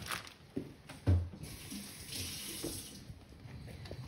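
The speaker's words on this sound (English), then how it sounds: "I don't care what I'm cooking, what kind of meat it is, getting them rinsed off" Tap water running into a sink while meat is rinsed for a soul food Sunday dinner, a steady close splashing flow with a few brief louder splashes and clunks, no talking.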